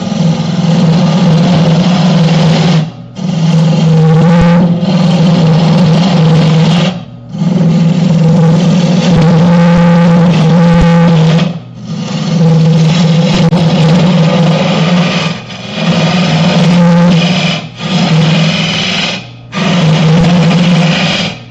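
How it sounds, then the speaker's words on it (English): A wooden bird feeder spins on a lathe while a gouge hollows it, giving a loud, steady humming whir with a bright cutting rasp, broken by several short pauses between passes. "I'm going to go with the gouge until I can't, and then I'll switch to that round nose scraper."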